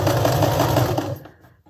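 A sewing machine stitches fabric for quilt blocks made from scraps, whirring in a dense, steady run for just over a second, then cutting off into near silence.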